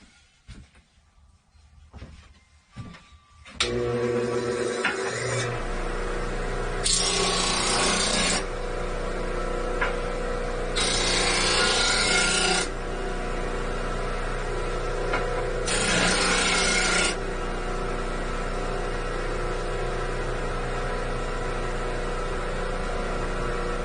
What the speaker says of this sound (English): Time to go ahead and clean up the heel in the back. We'll do that on the disc sander.